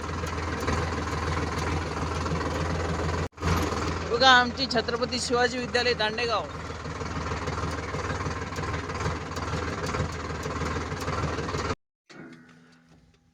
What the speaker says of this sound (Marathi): लई दिवसानं ट्रॅक्टर हातात घेतलंय बघा बरं जमतंय की नाही.